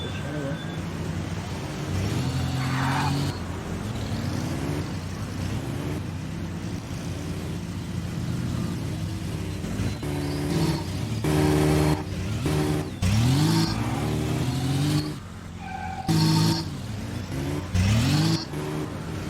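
Racing car engine in the City Racing video game, revving and shifting in repeated rising sweeps that sit loud over game music and effects, continuous throughout.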